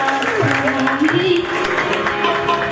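Applause rises from the crowd at an annual dinner and award ceremony as a speaker is welcomed, a dense, moderate clatter of clapping blended with a voice over a public address system.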